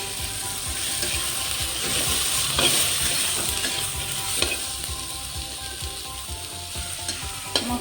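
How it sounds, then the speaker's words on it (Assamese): Ginger garlic paste fries in a pan for ghugni, a steady close sizzle with occasional clinks and scrapes of stirring, and no voices. "এতিয়া মই ইয়াত আদা নহৰু পেষ্টখিনি দি দিম।"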